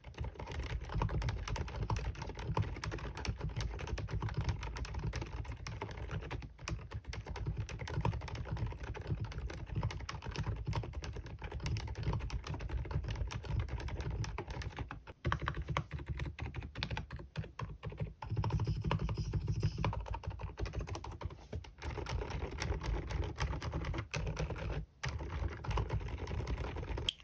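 Steady, continuous typing on a mechanical keyboard with tactile switches, close and crisp, a dense run of keystrokes with no voices.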